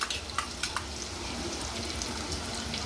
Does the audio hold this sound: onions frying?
yes